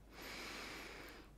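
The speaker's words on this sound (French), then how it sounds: "Une respiration." A single long, steady breath, soft and close, with an airy hiss that swells and then fades over about a second, alone and without any talk.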